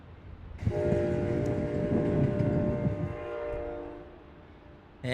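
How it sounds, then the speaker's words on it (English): An Amtrak Surfliner train running between San Diego and Los Angeles passes close by, a loud sustained rumble with steady horn-like tones that swells, holds for several seconds, then eases off as it moves away. "That is the Amtrak Surfliner that goes from San Diego to LA"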